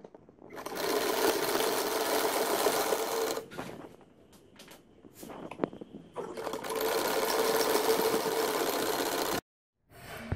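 A sewing machine stitches baby pajama fabric in two long, steady bursts of fast, close mechanical whirring, separated by a pause with a few clicks and a brief stop at the end.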